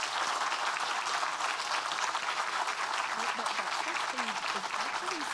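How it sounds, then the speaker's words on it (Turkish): Astronauts applaud inside a Crew Dragon capsule during a crewed launch, dense continuous clapping at a steady level throughout, with a voice audible beneath it. "Kapsül içinden alkışlama görüntüleri geliyor."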